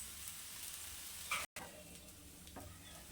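Sliced onions sautéing lightly in a pan for tomato egg dosa, a soft, continuous sizzle with faint stirring scrapes, quiet and close, broken by one very short gap.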